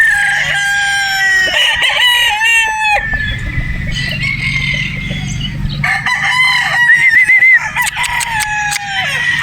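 A gamecock brood stag crows loudly and close several times, with clucking and other fowl calls mixed in between the crows.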